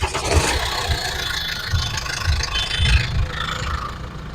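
A 2012 Mahindra XUV500 W8 diesel engine idles with a steady low rumble and soft rhythmic thumping pulses, close and fairly even throughout.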